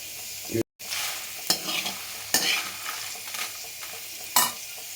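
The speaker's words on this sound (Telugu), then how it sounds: "ఎరువుగాయలు మాత్రం బాగా వేయించాలి" Dried red chillies fry in a pan for urad dal spice powder, a continuous sizzle broken by several scraping stirs and one brief silent gap near the start.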